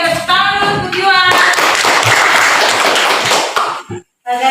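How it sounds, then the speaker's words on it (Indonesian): Students in a classroom break into a short burst of hand clapping after a voice speaks, the claps dense for a couple of seconds before fading into a pause and more talking. "Semua berikan tepuk tangan dulu untuk Yuan."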